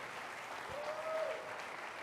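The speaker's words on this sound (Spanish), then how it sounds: "Denle un aplauso al Señor." Church congregation applauding during a sermon, a steady wash of many hands clapping at moderate distance, with a faint voice or tone rising briefly in the middle.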